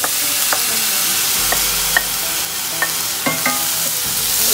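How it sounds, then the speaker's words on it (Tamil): Broccoli sautés in a pan with ginger-garlic paste, a close, constant sizzle punctuated by repeated light clicks and scrapes of a spoon stirring against the pan. "இப்போ நம்ம broccoli-யை ஒரு 3 நிமிஷம் நல்லா வதக்கிக்கலாம்"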